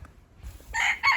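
A young rooster in a mixed flock of chickens lets out a short, strained crow, with soft clucking and rustling under it, close by in a cold-weather coop.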